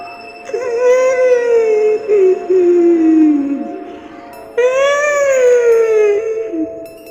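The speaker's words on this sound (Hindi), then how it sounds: "किसी की रोने की आवाज आ रही थी" In a Hindi horror story, someone cries in two long, loud, wavering wails that rise and fall, with a gap between them, set against a steady background hum.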